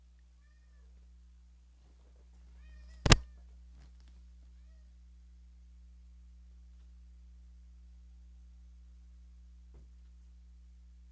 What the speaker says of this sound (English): My cat wants out.